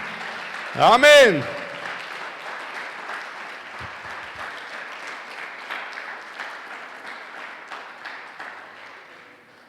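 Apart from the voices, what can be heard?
congregation applause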